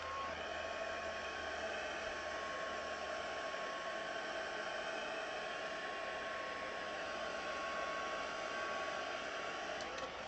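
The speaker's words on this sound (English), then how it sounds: "Let's hit this with the dryer a little bit." A hair dryer blows steadily and evenly on stamped cardstock throughout, a constant whooshing hum with no talking.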